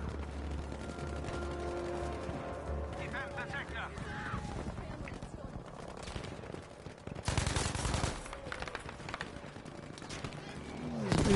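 Rapid bursts of sniper and automatic gunfire in a shooter video game, loud and dense with a sharp volley near the middle, layered over game sounds and someone talking.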